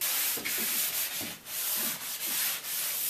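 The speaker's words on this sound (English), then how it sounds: "So I'm going to hit it with the sanding sponge" A sanding sponge scrubs back and forth across a wooden door casing before priming, giving soft, close, rhythmic rasping strokes about twice a second.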